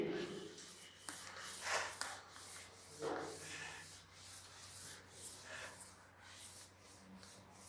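Repeated soft rubbing strokes of an eraser or cloth wiping a classroom board during a chemistry lecture, in uneven bursts with a steady background hum and no talk.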